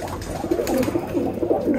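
Roller pigeons coo steadily in a loft, soft throaty burbling calls repeating close by with a faint background hiss and no speech.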